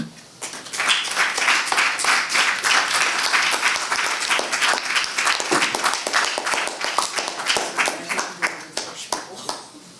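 An audience at a TEDx talk breaks into sustained applause, dense clapping that swells quickly, holds for several seconds and then tapers off.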